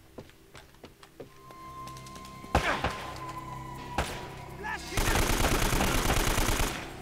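AK rifle fire in Uncharted: Drake's Fortune, scattered single shots and thuds at first, then a sustained, loud rapid burst of automatic gunfire near the end.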